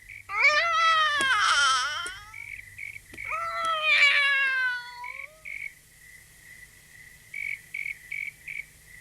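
A cat meows twice, long drawn-out cries close by, with a steady insect chirping running underneath and continuing alone afterward.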